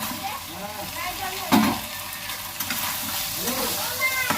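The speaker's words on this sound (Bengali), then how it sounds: "এবার কুমড়োটাও ঢেলে দেবো" Pumpkin pieces tumble into a hot pan with a short thud, followed by steady close sizzling and frying, while a voice talks over it.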